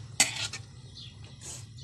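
A utensil clinks and scrapes against a pan while pancit vegetables and cabbage are stirred, a sharp metallic tap followed by a few quieter scraping strokes, close and fairly faint.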